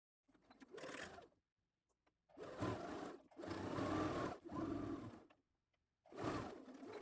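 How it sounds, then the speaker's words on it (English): A sewing machine stitches across the top of two bust cups placed right sides together for a frock, running in four loud, steady bursts separated by short pauses. "Place your bust cups right sides together and sew across the top at 1/2 inch or"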